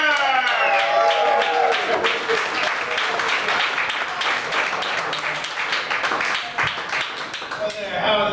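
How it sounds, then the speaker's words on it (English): A comedy club crowd applauds as a comedian is introduced, a dense burst of clapping and cheering from the audience, with a host's amplified voice heard over it at the start and again as it dies down. "Let's have a big round of applause, Comedy Mr. Johnny Walker!"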